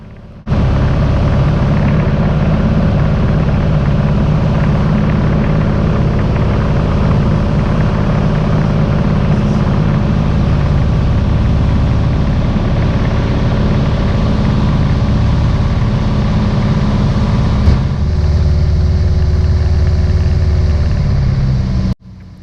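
Cockpit drone of a light training aircraft's engine in the landing pattern on a first solo flight, loud and steady throughout, then shifting to a lower, reduced tone late on before cutting off.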